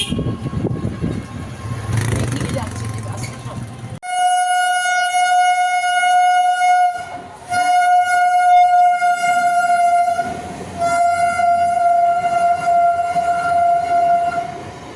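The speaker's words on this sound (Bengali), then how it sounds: "পশ্চিমবাংলার লোকাল ট্রেন" A West Bengal local train passes close by, sounding a long, loud horn that blares in several sustained blasts with brief breaks, over the low rumble of the wheels on the rails.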